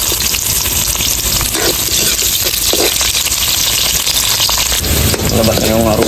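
Garlic, ginger and onion sauté in a hot pan with a loud, continuous sizzle and occasional stirring scrapes, while a voice talks over the cooking.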